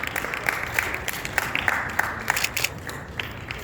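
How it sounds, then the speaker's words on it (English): An audience at a direct selling association press meet in West Bengal claps together in a dense round, with a few sharper individual claps standing out near the front and no speech over it. "Let's have a big round of applause,"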